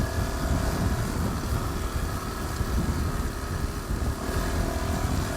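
A Yamaha WR400F motorcycle engine drones steadily on a slippery greenlane, a loud, close, rough low-pitched rumble held under constant throttle with slight fluctuations and no pauses.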